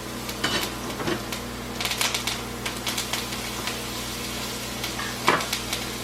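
Steak sears in a pan with butter, fresh garlic and thyme, giving a steady hiss and crackle with bursts of spitting pops and a few clinks of utensils.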